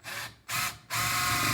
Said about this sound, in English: I'm just using an impact and these 2 3/4 inch screws that are made for going in